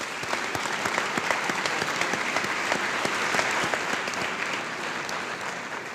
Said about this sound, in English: Ladies and gentlemen, let's give these students a round of applause.